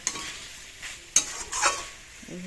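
Soybean chunks fry in a pan with ginger, cumin and chilli paste, giving a steady sizzle broken by several scraping stirs and a sharp clack of the spatula against the pan.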